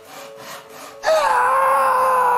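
A wooden plank being sawn in the game Distraint 2: faint rubbing at first, then a loud, steady rasping saw stroke that holds without a break to the end.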